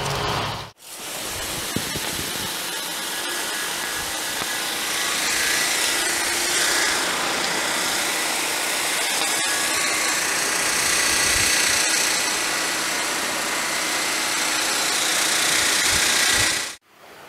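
Hurricane Pro chassis cleaner pressure washer running at 3,500 PSI and 4 gallons a minute with two number 3 nozzles, giving a loud, steady broadband hiss and roar that holds for most of the stretch, then cuts off abruptly near the end.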